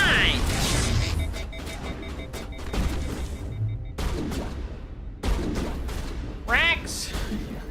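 Gunfire from the video game Mass Effect comes as rapid, loud bursts of shots and impacts, broken by short pauses. Voices and synthetic whooshing effects are mixed in.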